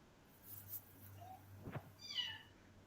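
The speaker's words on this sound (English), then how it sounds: "Someone's got a kitten." A small rescue kitten gives a couple of faint, thin meows against a quiet indoor hum, with a brief soft rustle between them.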